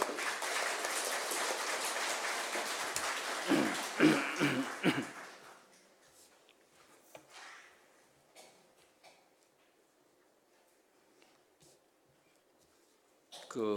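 Church congregation applauding at an early-morning revival service, a dense burst of clapping filling the first five seconds before thinning out into a quiet room with scattered small noises.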